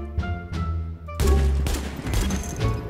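Gunshots in The Division video game: a couple of sharp separate shots, then a louder cluster of rapid reports, close and punchy.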